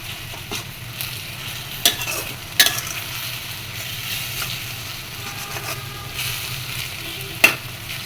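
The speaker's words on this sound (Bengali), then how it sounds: "এই যে শাকটাকে আমি টেনে একটু কড়াইয়ের উপরে তুলে নিচ্ছি" Dondokolosh greens sizzle steadily in a wok as they are stirred and pushed around, with occasional sharp scrapes and clicks of the utensil against the pan cutting through the constant frying hiss.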